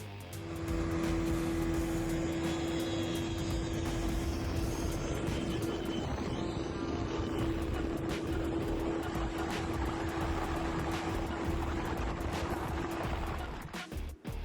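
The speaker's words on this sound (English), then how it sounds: "A seaplane takeoff is truly a sight to behold." A seaplane takes off from water, a steady loud engine drone with a sustained hum and broad wash of noise throughout, fading slightly at the end.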